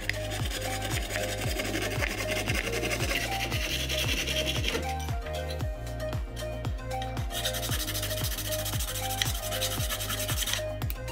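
Hand tool rasping or filing a hole into a plastic phone case, steady repetitive scraping strokes at a regular rhythm, close and fairly loud throughout, no talking.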